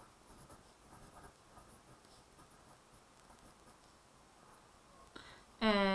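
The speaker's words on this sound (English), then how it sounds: "So I'm going to write this number down." A marker or pen writes a number on a board, with soft scratchy strokes running for several seconds. A brief voice comes in at the very end.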